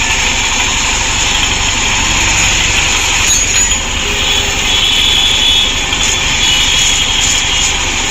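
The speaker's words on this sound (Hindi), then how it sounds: "अभी स्टार्ट है गाड़ी" A TVS motorcycle engine runs steadily after starting, a loud, constant mechanical drone that holds without pause and without voices, for a bike with a reported engine noise and timing chain problem.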